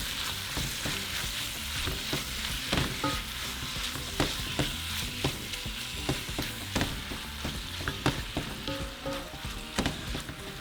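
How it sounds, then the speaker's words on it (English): Pork and bacon for a stovetop discada norteña sizzle steadily in a pan while being stirred, with frequent scraping clicks over the constant frying hiss, close and without speech. "we're going to add our pork. just mix it all together."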